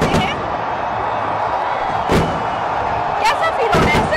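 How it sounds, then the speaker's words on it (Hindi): Fireworks burst over Minar-e-Pakistan in Lahore on Independence Day night, with several sharp booming cracks spaced a second or so apart over a constant roar of a large outdoor crowd, and someone talking up close. "जहाँ पर सबसे ज़्यादा आतिशबाजी की जाती है, जहाँ पे हुकूमत खुद इकदाम करती है आतिशबाजी के, वो मीनार पाकिस्तान है।"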